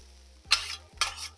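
Chicken and broccoli stir fry sizzles on a Blackstone griddle, with two quick bursts of scraping and hissing as the food is stirred and turned with a spatula.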